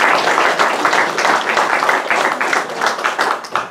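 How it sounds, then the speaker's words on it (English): A church congregation at a worship service gives a round of applause, a dense, steady patter of many hands clapping throughout with no talking over it. "And so I want to give them a round of applause."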